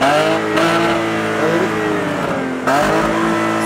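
An Opel Omega's 2.6 V6, its exhaust muffler marked by a small hole, revs up and holds with a loud, metallic, layered engine note, briefly dropping off before climbing again, close and steady with no talk.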